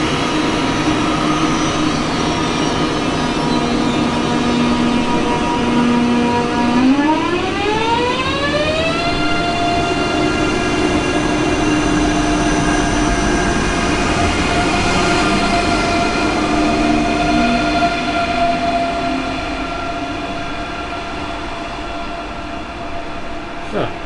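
A regional RB 75 train pulls out of the platform at Aschaffenburg station, its electric traction motors whining upward in pitch as it accelerates, then holding a loud steady rumble that gradually fades as it departs.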